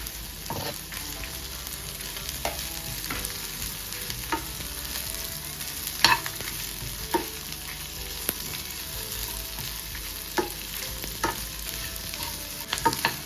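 Chopped ginger and garlic sizzle steadily in hot oil in a pan for a village-style chicken sambar, with occasional scraping clicks of a spoon stirring, close and continuous with no voices.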